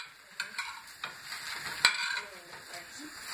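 Pancake batter sizzles in an oiled frying pan, a steady close crackle with scattered light clicks and scrapes of utensils.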